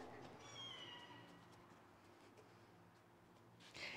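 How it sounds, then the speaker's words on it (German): Three kittens meow in a flat in Cikcilli, Alanya, a few faint high cries early on over a low indoor hum, with a brief louder noise at the end. "drei unheimlich süße Kätzchen"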